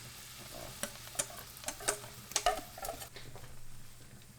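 Egg, okara and flour batter hitting an oiled hot pan, a faint sizzle with sharp scattered pops and spatters, then settling into a soft, even frying hiss.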